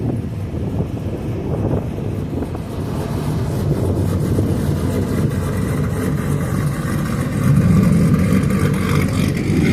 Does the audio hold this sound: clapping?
no